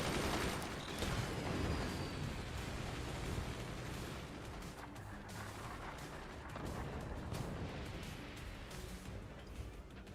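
Mortars and other weapons firing in the RTS game Forts during a 1v1 tournament match, a dense wash of rumbling blasts and crackling impacts overlapping continuously, broad and noisy without clear separation.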